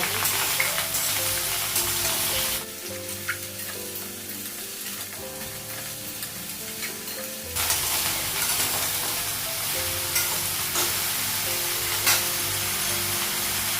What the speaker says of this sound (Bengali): ঝিঙ্গাটাও লাগিয়ে দিয়েছি আর একটু ভেজে নিয়ে তারপর মশলাগুলো